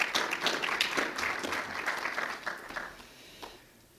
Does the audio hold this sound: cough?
no